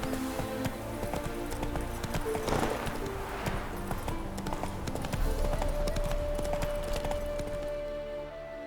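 Roach, the horse in The Witcher 3 game (Hearts of Stone expansion), clip-clops along with steady hoofbeats under game music and ambience, with a brief whinny-like tone; hooves stay moderately near throughout.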